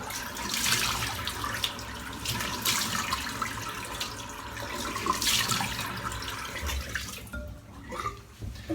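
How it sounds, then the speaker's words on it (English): Cold tap water runs into a sink for a rinse after wet shaving, a steady, fairly quiet gush with splashing and dripping that cuts off near the end. "I'm just going to rinse straight off with cold water"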